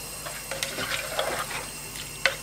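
Water is poured from large glasses into a pot of lentils for dal tadka, a close, splashing trickle with small bursts and a sharp clink at the end.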